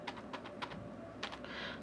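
Someone types a mobile number on a computer keyboard while setting up Telegram on a PC: a handful of quiet, separate key taps in an uneven rhythm, then a short burst of faster clicks at the end, close up and with no talk.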